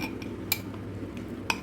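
Amla gooseberries are stirred with honey in a jar, with a soft continuous scrape and two sharp clinks of a spoon against the container, close and fairly quiet.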